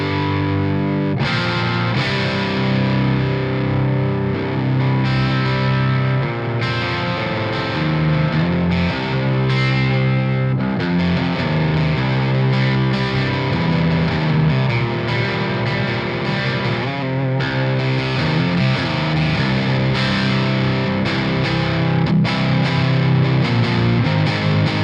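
Distorted electric guitar plays steady chords and riffs through a Synergy SYN 20-IR amp on its crunch channel, with a crunchy, gritty tone, continuous and loud throughout.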